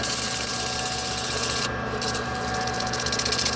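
A wooden workpiece spins on a lathe while coarse sandpaper is pressed against it, giving a steady, close, rough rubbing hiss over the machine's hum with a brief dip partway through.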